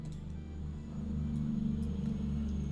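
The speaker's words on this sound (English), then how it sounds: "a truck just went past" Truck driving past outside, heard as a faint, low rumble that slowly swells and holds steady for a few seconds.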